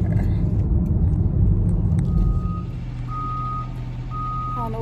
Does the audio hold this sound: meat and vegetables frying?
no